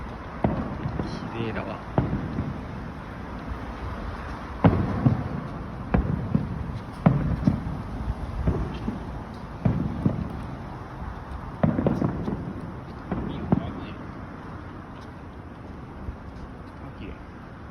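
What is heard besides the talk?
fireworks exploding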